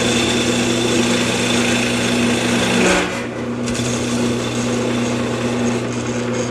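A powered honing wheel on a sharpening station hums steadily and loudly while a woodturning gouge is held against it. The tone dips briefly partway through as the tool shifts, then the even whir carries on.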